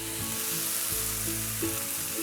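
Foraged mushrooms fry with chopped garlic and onion in a pan, a loud, even sizzle running without pause, with a low hum beneath and no talking.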